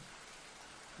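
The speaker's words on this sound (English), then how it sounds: "you could hear the sounds of the torrential downpour from outside." A torrential rain downpour hisses steadily outside, a dense, faint wash of noise with no voices.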